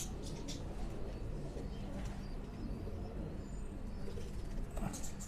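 Sialkoti pigeons, a fifty-year-old breed line kept in Rawalpindi, coo softly and intermittently against a steady background hiss, with a few faint chirps and no talking.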